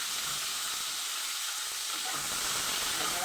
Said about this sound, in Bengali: এবার আমি তেলে আলুটা ছেড়ে দিলাম।